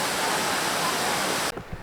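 Water from a waterfall on the Four Waterfalls Walk in Wales rushes in a steady, broad roar, loud and close, then cuts off abruptly near the end, leaving faint thumps and quiet.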